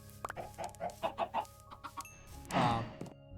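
A chicken in the video game Minecraft gives a rapid run of close, clear clucks, ending in a louder, drawn-out squawk, with no talking over it.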